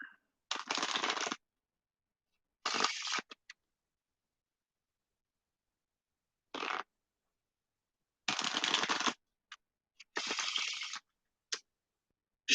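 Several quick bursts of cards being riffle-shuffled, each a crisp flurry of flicks separated by silence, close and fairly loud.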